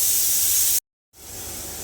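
Strong hiss of escaping steam that cuts off abruptly for a moment, then resumes and settles into a steady, slightly softer rush.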